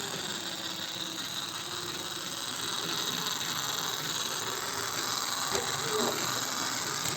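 A live steam model locomotive, a modified 4x4 Max Regner mini engine, runs with a steady broadband hiss and mechanical rumble that holds throughout, with faint voices in the background.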